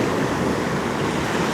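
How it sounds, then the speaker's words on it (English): Ocean surf rolls and crashes against rocks on a French beach, a steady loud wash of broadband noise with some wind buffeting the microphone, with no voices. "Gonna wait for the waves crashing into the rocks."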